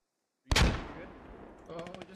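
A grenade goes off in a squad-based military shooter game: a sudden sharp blast with a booming, decaying rumble, followed by a brief rattle of gunfire, heard close with no talk over it.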